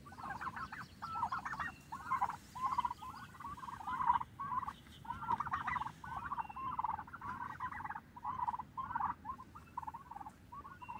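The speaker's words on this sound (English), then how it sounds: "let's feed the turkeys" A flock of turkeys gobbles repeatedly in overlapping bursts, loud and close, with a steady chattering rhythm throughout.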